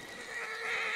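A horse whinnies loudly in Red Dead Redemption 2, a single sustained neigh that rises in intensity toward the end, close and clear.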